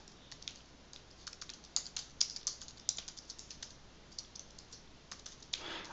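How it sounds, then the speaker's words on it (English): A computer keyboard clacks as a search is typed into Google, with quiet, uneven bursts of keystrokes and a few sharper taps and no talking. "type in the same search"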